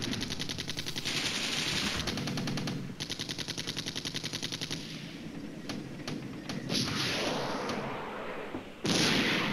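Artillery strike landing around a tank in the wargame Flashpoint Campaigns, heard as rapid rattling bursts of automatic fire mixed with heavy thumps, loud and continuous with brief pauses and a sharp final blast.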